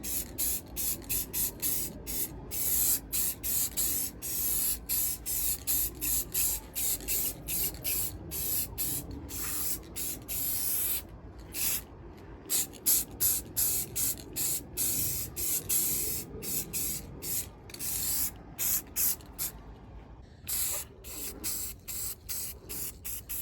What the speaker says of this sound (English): So now I'm going to come back with our gloss black and give this a couple light coats as well.